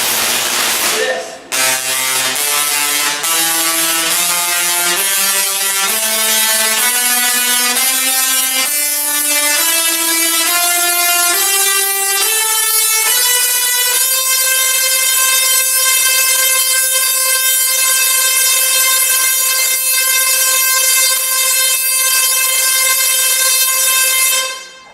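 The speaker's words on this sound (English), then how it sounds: "The more sparks per second we make, the more our eardrums get wiggled, and the higher the sound we hear with our ears." Musical Tesla coil firing sparks that buzz in a loud, harsh electric tone, stepping upward in pitch note by note like a rising scale, then holding a high sustained buzz before cutting off abruptly.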